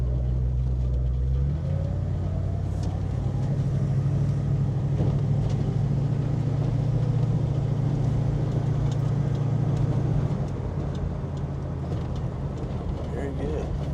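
A 1969 Ford Mustang Mach 1 with a 428 R-Code engine drives along, a steady low engine rumble heard from inside the car that drops in level near the end.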